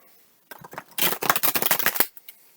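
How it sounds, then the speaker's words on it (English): A deck of tarot cards is riffle shuffled twice, with a short riffle followed by a longer, dense burst of rapid flapping card clicks, close and crisp with no talking. "So I'll give these one good shuffle here, and one more."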